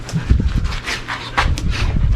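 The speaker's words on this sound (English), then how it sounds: "watching my dog jump in the pool, which I did not want to happen" Just after jumping into a backyard pool, a dog pants close by in quick, rhythmic, breathy puffs, steady and fairly loud for a couple of seconds.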